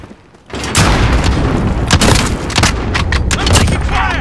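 Call of Duty match gunfire erupts in loud, dense bursts of rapid shots and booming impacts, continuous for about four seconds after a quiet start, with a voice faintly mixed in.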